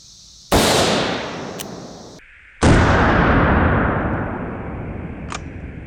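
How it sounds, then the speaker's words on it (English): Two loud, sharp gunshots from a .44 Magnum revolver fired outdoors into sandbags, spaced about two seconds apart, each with a long echoing decay that rolls away across open ground. "Then we shot the 44 Magnum."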